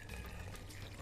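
Water is poured onto peeled guava flesh in a kitchen for a juice, a brief steady splashing rush.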